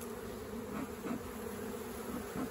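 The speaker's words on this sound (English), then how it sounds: "There's a brood in there, there's a lot of bees." Honey bees buzz in a dense, steady drone close by inside an opened hive, a continuous low hum with slight swells and no voices.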